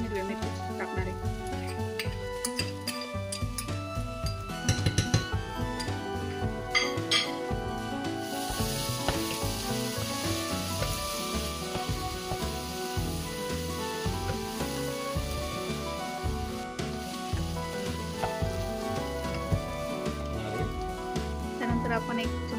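Onions sizzle in a pan with ginger, garlic and green chili paste for egg biryani, a steady close-up hiss and crackle with occasional scraping and stirring, and a voice talking over it.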